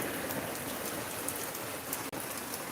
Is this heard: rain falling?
yes